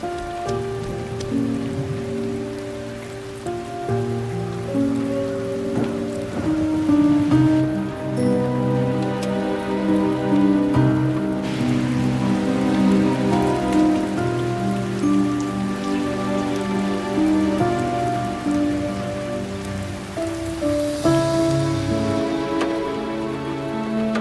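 Steady, loud rain pours down continuously on a surface, a dense unbroken patter with tonal music sounding underneath.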